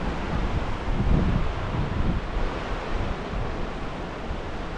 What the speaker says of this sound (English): This is a really safe swimming beach here, guys.